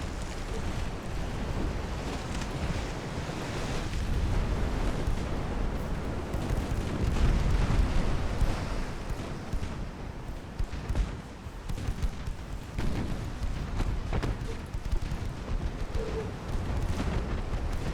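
Naval gunfire rolls from 1890s U.S. Navy warships engaging a French ship in Ultimate Admiral: Dreadnoughts, a dense, continuous barrage of overlapping booms and low rumble that stays loud throughout.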